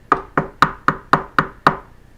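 Seven evenly spaced, sharp knocks rap out in a steady rhythm, close and loud, imitating someone knocking on a door.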